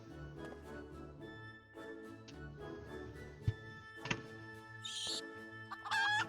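Birds in Final Fantasy XIV's Hatchingtide event cluck and chirp in repeated short calls over tonal in-game music, with a couple of brighter squawks near the end.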